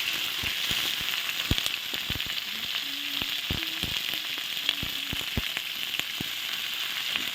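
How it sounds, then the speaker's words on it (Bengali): Potatoes and cauliflower frying together in hot oil with bay leaves, a steady soft sizzle broken by sharp crackles and spatters throughout, no voices. "এখন আলু আর ফুলকপি একবারে দিয়ে দেবো এখন ভাজবো তেলে"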